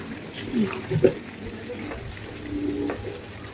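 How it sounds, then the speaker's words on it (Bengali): Prawns cooking in a pan are stirred, giving a low, steady frying sizzle with a few louder scraping knocks of the spatula early on. "চিংড়ি মাছগুলোকে দিয়ে ভালো করে নাড়িয়ে আবারও ঢাকা দিয়ে জল শুকনো হওয়া পর্যন্ত আমি নাড়বো।"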